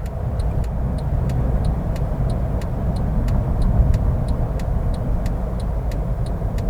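A car drives along a road while changing lanes, its steady road and engine hum running throughout, with a regular clicking turn signal ticking on top, no speech.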